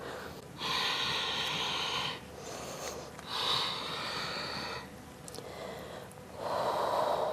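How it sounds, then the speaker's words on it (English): Deep, forceful breaths during a yoga splits stretch, with long breathy exhales and inhales in slow alternation, close and fairly loud over a rumbly background. "Ten deep breaths here."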